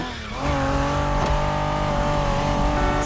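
A Honda NSX sports car from the 1990s, driven in the racing game The Crew Motorfest, holds a steady high engine drone with a clear tonal whine after a brief rise at the start, loud and close with no talk.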